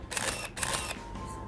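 A Nikon F-301 35mm SLR film camera fires its shutter twice in quick succession, each release a close, crisp mechanical snap with the whir of the film advance, followed by a quieter mechanical hum.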